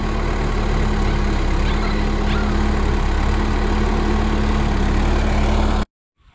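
A tractor engine runs at a steady loud drone while deepening a fishpond in soft, muddy ground, with a constant low hum and a sustained tone, then cuts off abruptly near the end.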